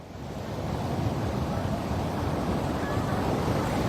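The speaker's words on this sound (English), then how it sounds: "these waves are coming up far higher than I think we" Storm-driven ocean waves churning up a beach toward condos, a steady, dense roar of surf with wind noise that holds at an even, loud level throughout, with no voices.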